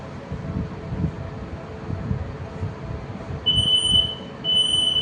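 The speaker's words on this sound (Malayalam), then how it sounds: "ഞാൻ കറക്റ്റ് നോട്ട് വെച്ചിട്ടുണ്ട്, പക്ഷെ ബീപ്പിംഗ് സൗണ്ടാണ് വരുന്നത്." A currency-reading wallet device for visually impaired users gives two steady, high electronic beeps in the second half, the second following a short gap, over a low rumbling background at an AI expo.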